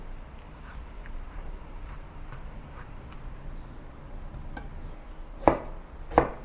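Knife chopping through a tomato on a cutting board in a kitchen, faint soft taps at first, then two crisp, louder cuts near the end.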